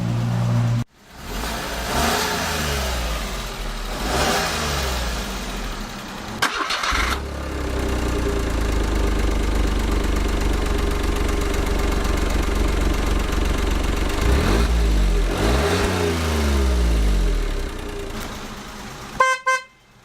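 A 2009 Smart Fortwo Passion Coupe's small engine idles and revs in repeated swells, with a steady exhaust drone between rises and a brief sharp burst near the end, close and loud throughout.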